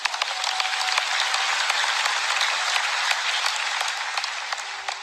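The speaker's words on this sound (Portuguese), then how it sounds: "Vamos aplaudir o Rei da Glória." A church congregation at a preaching service breaks into sustained loud applause, dense and even clapping filling the room without a pause.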